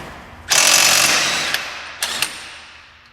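An AC Delco ARI2023 half-inch impact wrench hammers hard on a new axle nut, one loud sustained burst of rapid impacts followed by two brief blips, close and alone.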